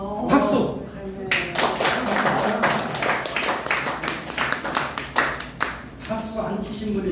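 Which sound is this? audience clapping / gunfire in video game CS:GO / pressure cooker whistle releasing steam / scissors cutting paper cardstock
audience clapping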